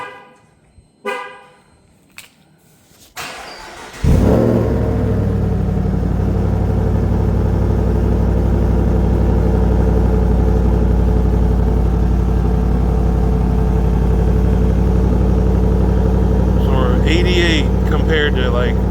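A Ram 1500 DT with a Flowmaster Dual Mode muffler cold starts after a few short clicks and chimes, its engine catching loudly and settling into a steady, deep rumbling idle, with brief talking near the end.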